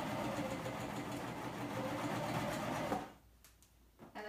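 A sewing machine runs at a slow, steady pace stitching the side seam of a swing dress, then stops abruptly; quiet handling sounds follow.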